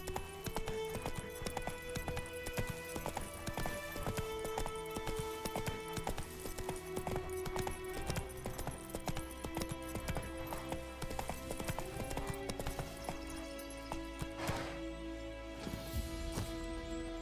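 Horse hooves clip-clop at a steady riding pace in The Witcher 3 video game, a continuous rhythmic clatter with clinking tack and a soft game music bed underneath.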